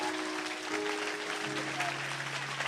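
A church congregation at a deliverance service applauding Jesus of Nazareth, with steady, dense clapping from many hands filling the room over sustained organ or keyboard tones.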